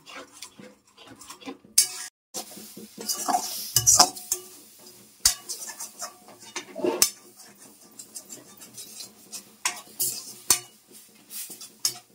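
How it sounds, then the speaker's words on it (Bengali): A spicy chutney is stirred continuously in a pan, with a spoon scraping and clinking irregularly against the metal over a faint sizzle. "এটা সমানে এইভাবে নাড়তে হবে, তাহলে গায়ে গায়ে মিশবেও আর সুন্দর হবে খেতে"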